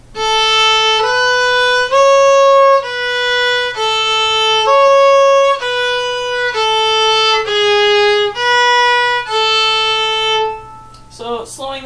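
Slow, sustained fiddle notes trace the final phrase of the A part of the folk tune "Old Joe Clark" in even steps, played solo and close, ending with a brief bit of speech.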